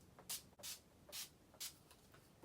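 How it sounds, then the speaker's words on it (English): Urban Decay Chill setting spray misted in four short, soft hissing bursts, each about a quarter second long, spaced unevenly and close by with quiet room tone between. "I'm going to go ahead and use a setting spray."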